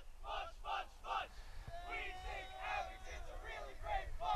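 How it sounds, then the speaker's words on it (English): Silver Lake crowd cheering in rhythmic chant bursts at a high school ultimate frisbee game against Abington, heard from a distance as repeated group shouts and an extended voiced chant, fairly faint outdoors. "What a nice cheer from the Silver Lake crowd."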